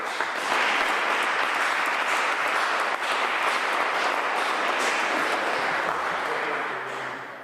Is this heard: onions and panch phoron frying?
no